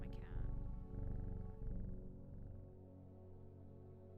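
A cat purring in the video game Strange Horticulture, a low, steady rumbling purr that carries on under a faint musical background and then fades.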